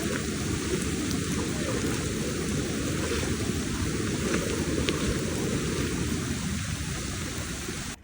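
Heavy monsoon rain pours steadily in Konkan around a stopped car, a dense continuous roar with a deep low rumble that may be thunder beneath it, close and loud throughout with no voices.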